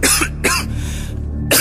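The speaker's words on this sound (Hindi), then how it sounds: "खांसने लगा।" Harsh, close coughing from a man in a spooky story scene, three loud bursts with a short strained breath between them.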